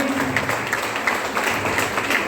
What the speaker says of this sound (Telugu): ఒకసారి వీళ్ళందరికీ జోరుగా క్లాప్స్ ఇద్దామండి